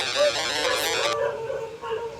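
A dog howling in a video game, one drawn-out wavering howl that sounds loud and close and then fades into a fainter tail.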